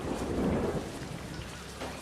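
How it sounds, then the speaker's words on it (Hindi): Steady rain pours outside with a low rumble of thunder underneath, a continuous dense hiss with no voices. "बाहर बहुत अच्छी बारिश है।"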